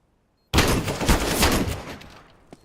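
Mag 7 shotgun fire in a competitive tactical shooter match, a sudden loud burst of gunfire with rapid overlapping blasts that trails off over about two seconds, alone without talk.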